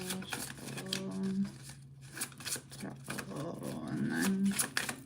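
Rapid papery riffling of tarot cards being shuffled in bursts, close by, with a person talking over it at times.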